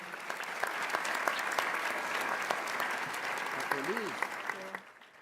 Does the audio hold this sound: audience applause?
yes